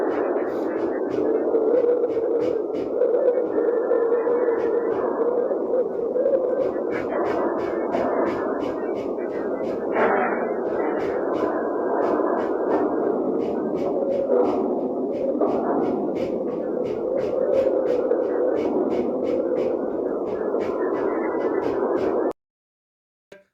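A space recording of Mars: a steady, dense rumble of static-like noise with rapid rhythmic pulsing throughout, continuous and unchanging until it cuts off abruptly near the end.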